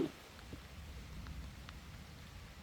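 Light rain patters softly and steadily, a faint, even hiss with a few scattered drops and no one speaking.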